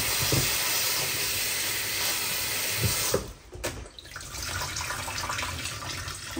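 Freshly washed leafy greens drain in a home kitchen, giving a steady splashing hiss of running water for about three seconds that then drops to softer, uneven trickling.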